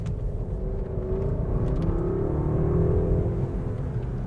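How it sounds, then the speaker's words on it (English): The muted V8 of a Mercedes S-Class hums steadily from inside the cabin, a smooth low drone with a gentle rise and fall in pitch as the car accelerates, with no talk. "Despite the muted exhaust, the Mercedes V8 has a really nice engine note."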